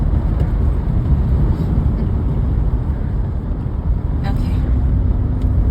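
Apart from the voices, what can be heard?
car driving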